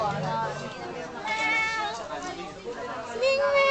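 A cat meows a few times, the calls faint and rising under steady talk from people nearby.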